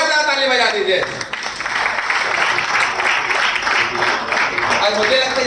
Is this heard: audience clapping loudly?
yes